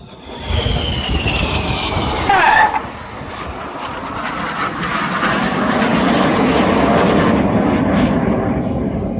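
Red Arrows jets at the Sunderland Airshow in 2016 roar past in a loud, close flypast, a descending whine rising into a sharp peak before a broad sustained engine rumble.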